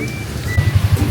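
Heavy rain pours down in a steady broadband wash outdoors near a hardware store in Bukidnon, with low rumbling gusts underneath and no talk.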